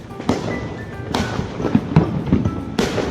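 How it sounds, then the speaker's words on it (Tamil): Diwali firecrackers bursting outdoors during a family celebration, several sharp loud bangs spaced a second or so apart over a continuous crackling, fizzing background of fireworks. "அப்பா பட்டாசு வைக்கிறார்."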